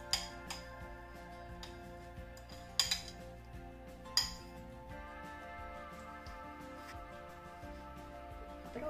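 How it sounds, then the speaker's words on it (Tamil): A spoon stirs mashed banana and oats into pancake batter in a bowl, with soft scraping and a few sharp metallic clinks against the bowl's rim over a faint tonal background. "இப்ப நம்ம நல்லா மாஷ் பண்ணியாச்சு இத mix பண்ணிக்கலாம்"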